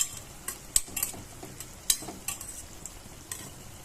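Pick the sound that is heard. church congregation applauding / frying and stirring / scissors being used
frying and stirring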